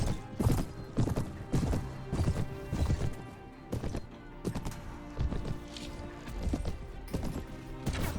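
Horse hooves clip-clop at a quick, steady rhythm during a city invasion in Mount & Blade: Warband, with occasional neighs and clanking over the close, continuous hoofbeats.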